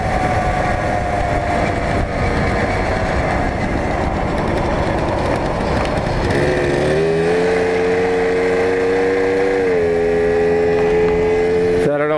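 Tomos moped with Hammer clutches, ridden along a road: a loud, steady buzzing two-stroke engine drone that drops in pitch and wavers as it downshifts into second gear, with a shaky, uneven tone afterward.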